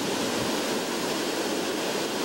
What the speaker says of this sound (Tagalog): masusing binabantayan ng mga residente ang rumaragasang tubig mula sa kabundukan na tumutuloy sa ilog na ito